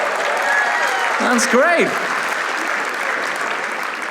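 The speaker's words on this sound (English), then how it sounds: "Give them a round of applause." An audience at a Christian comedy show applauds a couple married over 45 years, a steady wash of clapping with a brief spoken remark and a rising vocal exclamation cutting through near the middle.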